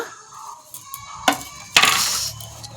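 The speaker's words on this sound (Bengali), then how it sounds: "এখন আমি ঢাকাটা খুলে নেব" A metal plate used as a cover is lifted off a bowl of dough, giving a few light clinks followed by a bright metallic scrape and clang, close and fairly loud, with no voices.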